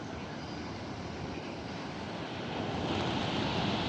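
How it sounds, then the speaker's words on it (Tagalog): Pacific Ocean surf at Barangay Butas na Bato in Dingalan, Aurora, a steady wash of waves heard from a scenic viewpoint, mixed with wind buffeting the microphone and swelling slightly louder toward the end. "Ito, Pacific Ocean na yan."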